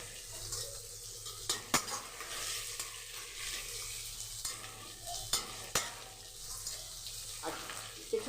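Onions fry in a pan for a chicken curry with a soft, steady sizzle under repeated stirring, as a utensil scrapes and clinks against the pan in irregular knocks close by.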